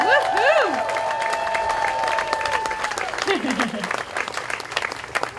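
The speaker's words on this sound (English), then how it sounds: "So big round of applause for that" Volunteers applaud and cheer after completing a Kaboom community playground build, a dense, steady round of clapping near and far, with loud whoops and shouts rising above it.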